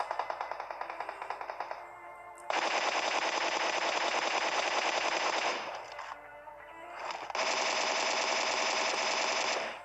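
Automatic gunfire in a shooter video game, fired with iron sights and no scope, comes as loud sustained bursts separated by short pauses and starts with a few rapid single shots.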